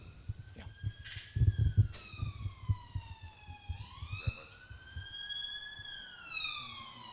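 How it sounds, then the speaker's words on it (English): A wailing siren sweeps up and down in long tones, rising loud and steady as it passes, with low rumbling traffic underneath. "I'll just wait for the ambulance to go by."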